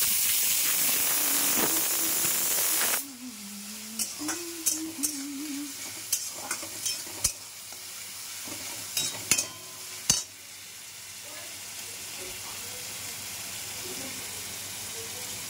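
Grated onion hits hot oil in a pan with a sudden loud sizzle, then settles into a steady frying hiss broken by repeated stirring clinks and scrapes, with no talking.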